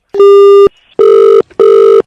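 A telephone rings in loud, clean electronic bursts: three tones, the first longer, separated by short silences.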